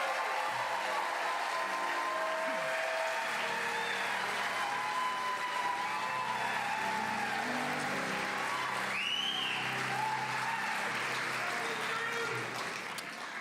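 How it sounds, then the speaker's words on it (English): Enthusiastic audience applause honoring young award winners at an evening awards ceremony, a sustained, dense wash of clapping that holds steady for the whole stretch and tapers slightly at the end, with faint background voices and tones mixed in. "accept one more enthusiastic round of applause"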